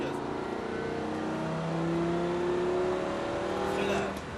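A race car on a circuit during a driving course holds a steady, droning engine note that rises slowly as it accelerates, loud and continuous throughout with no other sounds over it.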